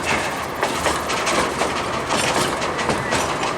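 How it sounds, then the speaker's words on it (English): A Cumbres & Toltec scenic railroad train in Chama, New Mexico rolls along close by, with steady loud clattering wheels and rumble filling the whole stretch. "people just want to film it, so we were just cramming up here on the side of the train"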